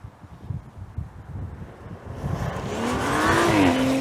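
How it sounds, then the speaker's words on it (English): A 2022 Audi RS5 Sportback engine in dynamic mode rises into a loud, rasping exhaust roar as it accelerates, with a rising tone and wind rush building toward the end. "The exhaust is louder"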